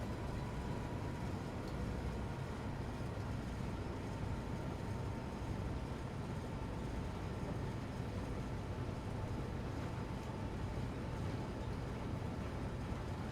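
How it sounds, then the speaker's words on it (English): Freight train engine pulling under load in Train Sim World 2, a steady, dense low rumble and drone that holds constant throughout with no talking. "I can hear the engine's a bit louder, which means I feel like we are pulling a bit more"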